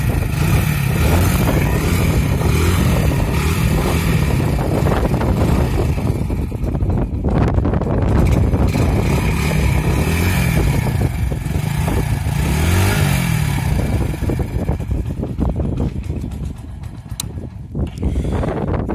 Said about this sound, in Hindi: कुछ इस टाइप का इसके साइलेंसर से आवाज़ आती है, सुन सकते हैं।